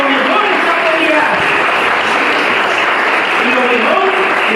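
A church congregation applauds during a worship service, a dense, steady wash of clapping from many hands that stays loud and even throughout, without pause.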